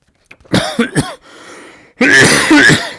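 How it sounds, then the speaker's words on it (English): Several harsh coughs in two bursts, close and fairly loud, with a brief quieter breathy pause between them. "Excuse me, coughing a bit"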